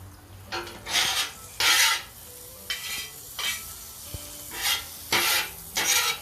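Eggs cook in a generous amount of butter in a pan, with a soft sizzle under repeated rhythmic scraping and stirring strokes of a utensil against the pan.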